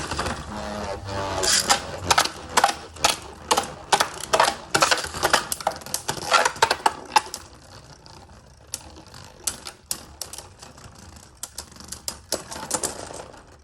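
Beyblade spinning tops, Lord Spriggan and Bushin Ashura Hurricane Keep Ten, launched into a stadium and clashing: dense rapid clacks and rattling impacts for about seven seconds, then sparser scattered hits as the spin winds down.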